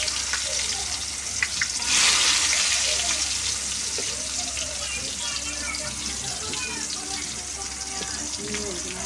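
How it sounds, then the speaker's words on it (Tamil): Onions added to hot oil with mustard seeds in a home kitchen for a soya chunk curry, giving a steady, close sizzle and crackle that runs throughout, with a brief louder burst near the start. "நெக்ஸ்ட்டு வெங்காயம் போட்டுக்கலாம்."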